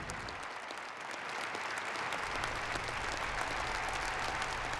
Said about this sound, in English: Another emotional standing ovation tonight took place for the first responders in the crowd